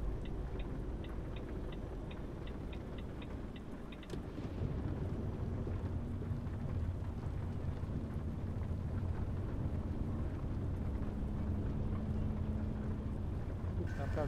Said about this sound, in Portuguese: Chuva intensa aí, ó.